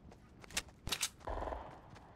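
Faint gunfire from a Fortnite match: a few short, sharp bursts of shots, quiet and distant, with a longer low rumble of game noise after them.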